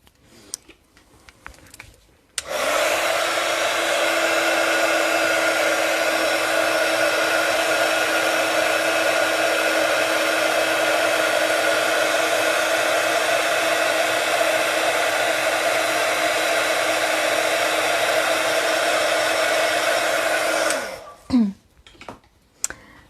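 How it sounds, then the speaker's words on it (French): A heat gun drying a freshly cleaned rubber stamp blows a loud, steady whirring roar for about eighteen seconds, then cuts off, with faint handling clicks before and after. "Et je vais passer ça au pistolet chauffant."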